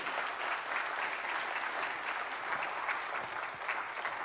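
Applause from a large summit audience in Kenya, a steady sustained clatter of many hands clapping at a moderate distance, unbroken for several seconds with no voices on top.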